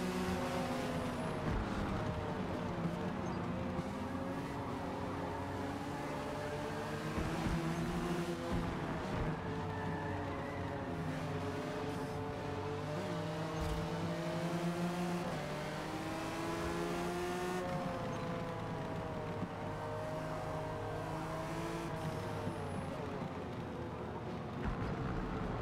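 Several racing car engines howl and rev continuously through a video game drag race, harmonic tones rising and falling with gear shifts as cars, including a Nissan, battle closely side by side.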